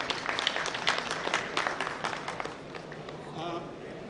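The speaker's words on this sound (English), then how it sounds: "we all should give them, a great clap" An audience claps for the resource persons at the close of a session, a dense burst of many hands that starts strong and gradually thins and fades, fairly near and filling the room.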